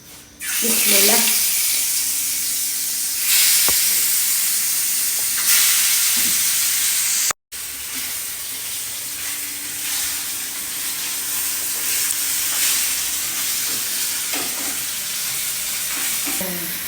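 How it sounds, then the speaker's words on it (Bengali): Tilapia frying in hot oil with turmeric and chili, a loud steady sizzle and hiss running throughout with occasional stirring clatter and a brief dropout midway; a voice speaks faintly underneath. "আমি মাছটা হালকা করে ভেজে নেব"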